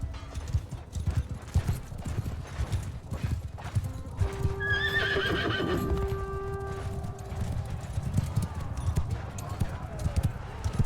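Horses gallop in a Bannerlord battle with Nord troops, a rapid stream of hoofbeats with a clear whinny partway through, while voices speak over the action.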